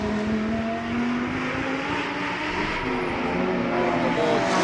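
GT race cars, Lamborghini, Porsche and Mercedes, racing down a track straight, their engines a loud continuous roar with rising and shifting pitch throughout, dense and steady with no talk.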